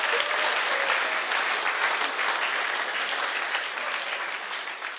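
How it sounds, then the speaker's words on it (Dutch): A studio talk-show audience applauds the winner with loud, sustained clapping that fades slightly toward the end. No voices come through. "Geef haar een daverend applaus."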